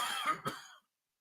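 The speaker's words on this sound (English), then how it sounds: "Let me do like a 30-second cough my lungs out break" A brief harsh cough blending into a rough throat clearing, one short burst up close that cuts off into silence.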